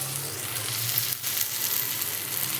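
Brinjal pieces sizzle and fry in hot oil in a pan, a steady close crackling hiss with a faint stir partway through and no talking.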